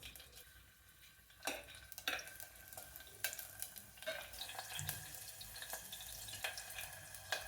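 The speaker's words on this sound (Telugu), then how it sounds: "పచ్చిమిరపకాయ ముక్కలు కొద్దిగా వేగాయి" Two green chilies cut into pieces and tossed into hot oil sizzle quietly, with intermittent scraping and knocking of a spoon against the pan at an uneven rhythm.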